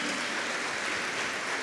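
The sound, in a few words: audience applause in church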